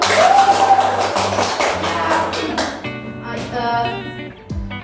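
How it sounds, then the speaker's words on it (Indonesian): A primary school class claps hands together in a classroom, a quick cluster of sharp claps over background music, tapering off as a voice speaks. "Tepuk tangan dulu."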